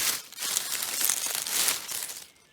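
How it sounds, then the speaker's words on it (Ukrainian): Freshly cut porcini mushrooms being dropped into a basket in the forest, giving a steady rustling, crinkling sound that runs close and fairly loud for a couple of seconds before fading. "Я зразу грибочки складаю в корзину."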